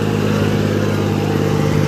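A Deutz-Fahr tractor engine labours under load in a steady, loud, close drone with a low throbbing rumble and no break or talk.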